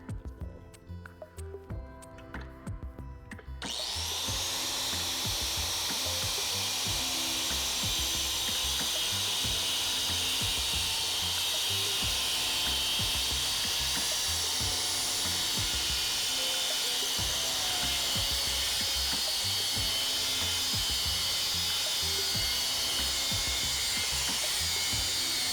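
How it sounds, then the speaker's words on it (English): Angle grinder cutting through a metal pump bracket while fitting a B58TU fuel pump on an N55 BMW 335i, a few seconds of quieter handling, then a loud, continuous high-pitched grinding whine that holds steady to the end. "So we'll go ahead and cut that off"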